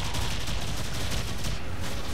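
In Warframe, a hand cannon fires a dense burst of rapid gunfire that rattles continuously for a couple of seconds, loud and close, with heavy booming impacts.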